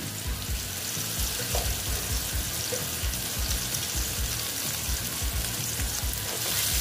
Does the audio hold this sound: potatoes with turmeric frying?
yes